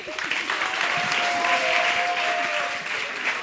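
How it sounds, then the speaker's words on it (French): Steady audience applause at a French entertainment show: a dense, sustained patter of many hands, fairly loud and continuous throughout, with a faint tonal hum beneath. "Merci beaucoup, on peut l'applaudir."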